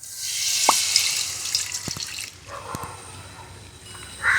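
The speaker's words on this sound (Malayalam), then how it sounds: "അപ്പോൾ നമ്മൾ നാളികേരം പാൽ ഒഴിക്കുന്നു" Coconut milk is poured into a pot of fish curry made with kudampuli over a fire, giving a liquid splashing and trickling with a few drips and clinks, close and fairly loud.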